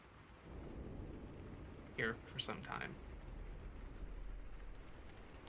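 A thunderstorm with steady rain sounds muffled, as if heard from deep below a building, with a continuous low wash of rain and rumble while a voice speaks briefly in the middle.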